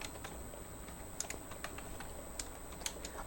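Computer keyboard typing during a WooCommerce website CSS tutorial: sparse, light clicks at irregular intervals over a steady background hiss, fairly faint, with no talk.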